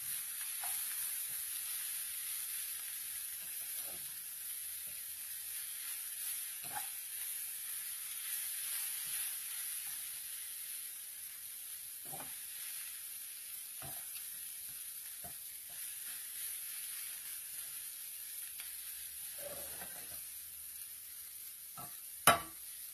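Pork sisig sizzling in a hot pan, a steady bright hiss running throughout with occasional soft clinks and stirring bumps, ending in a sharp knock.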